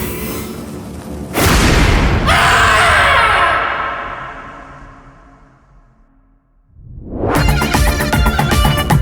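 Firecrackers bursting in loud, heavy booms, one big blast decaying into a long fading rumble before another burst of crackling explosions erupts at the end.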